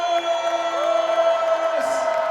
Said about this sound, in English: Let's give a huge round of applause for our closing speaker, Jaime